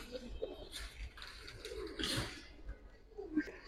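Giribaz pigeons kept for sale coo softly and intermittently nearby, with a few low throaty calls scattered over a quiet, faint background.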